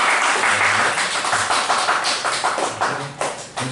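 A congregation at a Korean church Sunday service breaks into close, dense applause to welcome newcomers, a steady patter of many hands that fades slightly toward the end.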